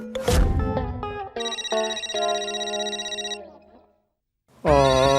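A phone ringtone plays a bright electronic melody of chiming tones, stops, then starts again loudly after a short pause.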